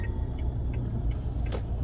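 A car is driven along a road, heard as a steady, close low rumble of engine and road noise from inside the vehicle, with no talking.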